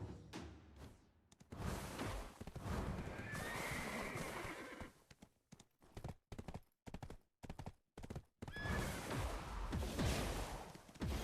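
A horse in the game Black Desert whinnies loudly, then hoofbeats and short thuds clatter in bursts, before another long neigh rises near the end.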